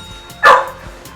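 One sharp, loud puppy bark close by, a single short yelp standing alone against a quiet background.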